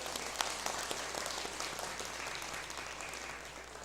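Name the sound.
congregation applauding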